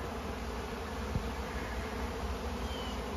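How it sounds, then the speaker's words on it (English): Close, steady buzzing of many honeybees at a colony cutout, a constant hum with no pauses. "That's bees cleaning up the stuff that I dropped."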